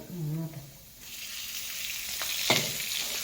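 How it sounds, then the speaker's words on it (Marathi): Onion and coconut roasting in oil in a pan, a close, steady sizzle that swells after a brief quieter moment, with a single sharp clink of a utensil partway through. "कांदा खोबरा आधी भाजती लसूण नंतर काय लगेच भाजते"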